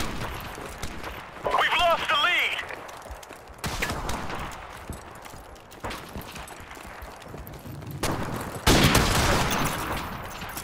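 M21 rifle gunfire in a Modern Warfare Remastered multiplayer match, with sharp bursts and single shots spaced across the clip, close and loud, mixed with game sounds and a person talking.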